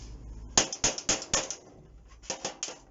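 A hammer taps a punch to mark the exact centre on a piece of household scrap before drilling, built into a homemade compound bow: four sharp metallic taps, a brief pause, then three more, close and distinct.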